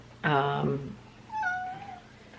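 A neighbor's cat gives two meows close by, one loud, drawn-out cry followed by a softer, rising-then-falling second meow, with no talking.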